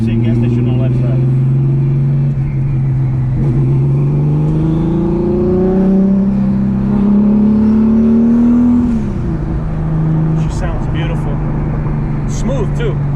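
A new base-model supercar on delivery day drives with a steady, loud engine drone inside the cabin, its pitch climbing as it accelerates, dipping, then rising again, while people talk over it.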